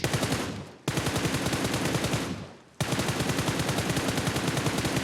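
Automatic weapon fire in PUBG Mobile, loud and close, in three long continuous bursts separated by brief gaps, each a rapid steady rattle of shots.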